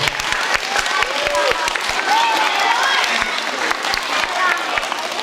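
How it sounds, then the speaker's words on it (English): An audience at a live comedy show at St. Joseph's gives a round of applause, steady clapping mixed with crowd murmur and someone speaking over it. "I'd like to give a round of applause to my gentleman here for enduring that."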